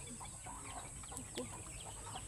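Several chickens squabble close by, trading short, scratchy clucks and squawks in quick irregular bursts.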